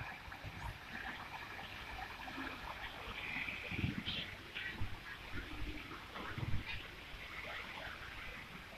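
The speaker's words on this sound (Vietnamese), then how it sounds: "suối nước nhân tạo" Soft, continuous trickle and splash of water in an artificial stream at a temple in Thailand, faint and close with small gurgling bursts, no voices.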